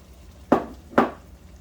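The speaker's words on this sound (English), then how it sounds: "Stir it all in. Break your meat up a little bit more." Ground beef in gravy is stirred in a pan with two distinct scraping strokes about half a second apart, close and clear against a faint background.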